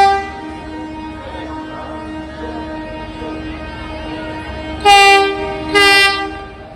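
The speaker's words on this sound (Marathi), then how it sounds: "ट्रेन आलेली 11 वाजल्या. 2 तास थांबलो होतो स्टेशनवर. वंदे भारत आलेली आहे." A Vande Bharat train rumbles into a station with a steady droning hum, then two loud, bright horn blasts sound close by near the end.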